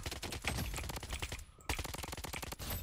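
Rapid automatic gunfire in the Blood Strike shooter game, dense bursts of shots in quick succession with a short pause midway before the firing resumes, loud and close.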